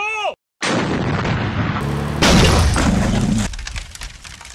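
Stop-motion battle effects for plastic army men: a burst of loud booming artillery-style explosions and rapid gunfire, briefly cut to silence, then a heavier sustained blast that fades into rumbling debris, with no talk.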